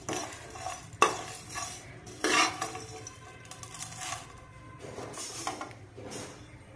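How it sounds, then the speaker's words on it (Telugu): Poppy seeds for a mutton masala curry are stirred and fried in a pan, with scraping spoon strokes and metallic clinks against the pan over a light sizzle, in irregular bursts. "ఈ లాస్ట్ని గసగసాలు వేసుకుని వేపుకుందామండి."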